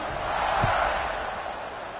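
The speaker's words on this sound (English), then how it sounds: "this crowd is buzzing after that last score" Football stadium crowd at a college game, UAB at Wake Forest, buzzing steadily after a score, a broad continuous roar of many voices at moderate distance with no single voice standing out.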